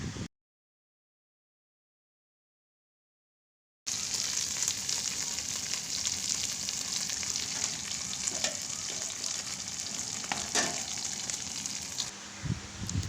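Small fish curry cooks in a pan on a domestic stove, heard as a steady sizzling, bubbling hiss. It starts after a few seconds of silence and continues at a moderate level with occasional soft clinks.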